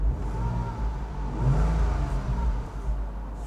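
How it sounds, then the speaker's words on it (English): A warmed-up base-model Porsche Boxster 986.2 engine revs close by, a steady low mechanical rumble that swells briefly in the middle before settling, with no talking. "as we rev the engine, we have already warmed it up"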